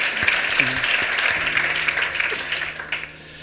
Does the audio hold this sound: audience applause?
yes